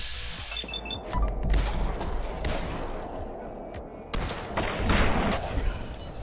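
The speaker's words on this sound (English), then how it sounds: "I like this laser gun more than I should." A laser gun fires in the Fallout game, loud sharp energy blasts with booming impacts in a couple of clusters amid other combat noise.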